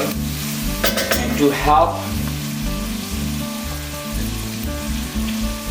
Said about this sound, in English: we can add the cheese now and turn down a little bit, slow, so the cheese is not gonna burn